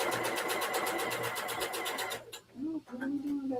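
A sewing machine stitches fabric pieces in a steady, rapid whir for about two seconds, then stops as a voice begins talking in a live sewalong.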